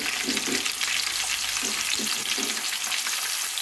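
Coarsely crushed onion and green chilli fry in hot oil, giving a loud, continuous, dense sizzle with a few soft stirring bumps and no talk.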